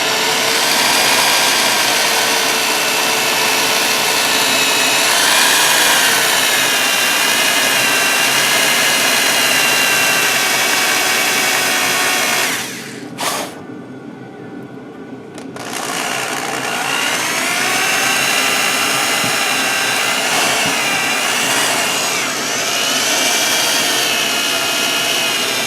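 A drill bit, stepped up to the next larger size, bores steadily into a metal workpiece, running loud and continuous with a brief pause partway through before cutting resumes.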